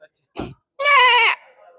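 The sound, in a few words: person imitating a baby goat bleating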